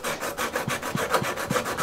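A card scraper pushed across a wooden workpiece after coarse-grit sanding, giving a close, steady series of rhythmic rasping strokes, about six evenly spaced passes in quick succession with no talk.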